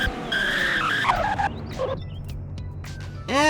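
A car in Roblox Greenville, a small front-wheel-drive car with a big engine and a 5-speed manual, brakes hard and skids: a loud tire squeal holds for about two seconds, then fades. A sharp squeal returns at the end.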